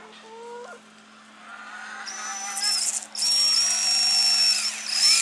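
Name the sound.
drill boring a hole into a cabbage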